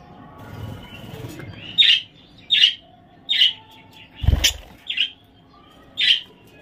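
A small bird calls at its nest with six short, bright chirps at a steady rhythm, close and clear against a quiet background, with one soft low thump partway through.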